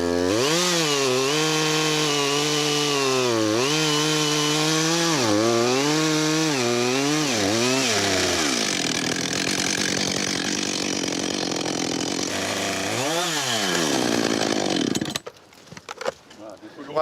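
A chainsaw cuts a precise felling notch into a tree trunk, its engine droning loud and close with pitch rising and falling as the cut proceeds, then dropping away near the end. Someone talks over it at times.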